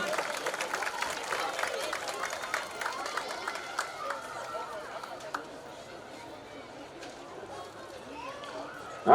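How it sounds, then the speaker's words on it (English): Crowd noise at a high school football game broadcast, with applause and chatter from the stands honoring a cheerleader, steady and moderately distant, with some voices mixed in and fading slightly toward the end. "One more round of applause for Miss Alexis Havis."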